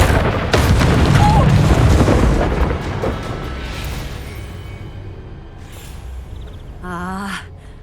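A booming fiery blast from an Incendio fire spell in Hogwarts Legacy, loud and roaring at first, then rumbling away over several seconds, ending in a short burst of a strained voice.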